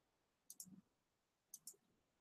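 Computer mouse clicks, crisp and close in an otherwise quiet room, coming as a quick double click, then another double click a second later and one last click at the end.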